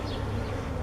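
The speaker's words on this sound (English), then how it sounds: "All these dark colored things here are bees." Italian honey bees on a hive frame give a dense, close, continuous buzzing drone with no voices.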